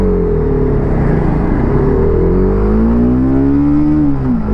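A 2025 TVS Apache RR310 race bike with a trellis frame accelerates hard through the gears, its engine note climbing steadily and dipping at each shift. The sound is loud and close, with no talk over it.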